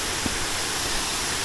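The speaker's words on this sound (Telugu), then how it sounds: "ఫైనలీ వచ్చేసాం మన మహితాపురం వాటర్ ఫాల్స్కి అయితే" Mahithapuram waterfalls, a dense continuous rushing roar of falling water filling the scene evenly with no breaks, close and loud.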